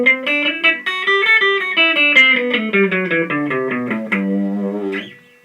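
Distorted electric guitar plays a seven-note scale shape as a run of single notes, steady and fairly even in rhythm, loud and close, ending on a held note that cuts off, with no voice.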